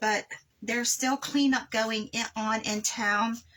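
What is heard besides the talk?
No everyday noise stands out behind the speech.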